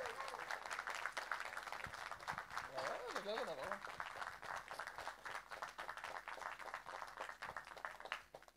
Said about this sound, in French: je pense qu'on peut vraiment l'applaudir